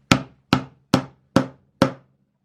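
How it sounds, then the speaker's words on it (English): Five sharp hammer strikes on nails land at an even, steady pace, each one a crisp close knock with a short ringing decay. "whenever we hammer, let's move the object closer to the person hammering."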